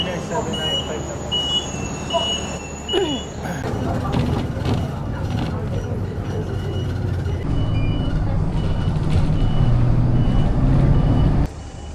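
Route 795 city bus in Taiwan near Shifen: a steady engine hum with repeated electronic reversing beeps, traffic noise and voices in the background.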